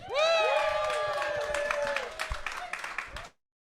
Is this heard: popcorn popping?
no